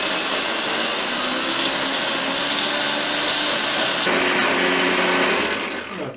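A food processor whirs steadily at high speed while chopping onions, a loud continuous motor drone that shifts pitch slightly partway through and then winds down at the end.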